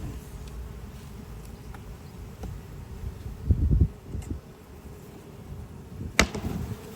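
Bees buzz softly around an open hive, a low continuous drone punctuated by a few brief knocks and clicks of handling, with no voices.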